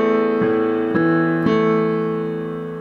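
Piano plays a phrase with a left-hand arpeggio, three clear struck notes or chords about half a second apart, then ringing out and fading, close and alone.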